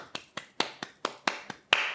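Eight hand claps from one person at a steady, even pulse, played softly as a percussion exercise, fairly close, with the last one a bit louder, and no voices.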